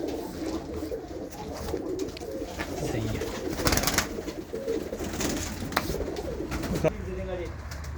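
Racing pigeons kept by a Sheffield fancier coo steadily in a loft, a dense layered murmur of birds close by with a few brief brighter calls rising through it.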